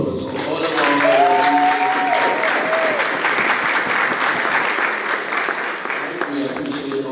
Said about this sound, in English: could I have a round of applause for all of our